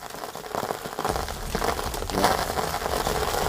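Salt and sugar poured to mimic falling rain for a film sound effect, a dense steady patter and crackle filling the whole stretch, fairly loud and close, with no speech.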